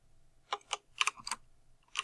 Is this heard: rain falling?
no